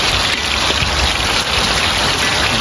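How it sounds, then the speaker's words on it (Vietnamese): Heavy rain pours down in a continuous, loud, dense hiss of drops striking surfaces, with no voices over it. "Quá mưa rồi. Quá mưa luôn rồi. Mưa dữ lắm mưa rồi."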